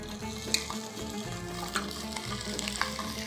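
Alexandrian-style sausage fries in a little oil in a pan, a close, steady sizzle with a few sharp pops and clicks of a utensil against the metal.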